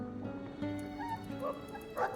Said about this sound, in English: Dog just sounds like he's breathing very loud.